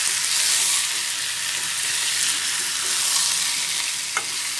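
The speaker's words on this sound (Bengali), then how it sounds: "এখন ঝরিয়ে রাখা চাল কুমড়াটা দিয়ে দিচ্ছি" Drained ash gourd cooks in a pan with a steady, hissing sizzle and a single soft clink near the end.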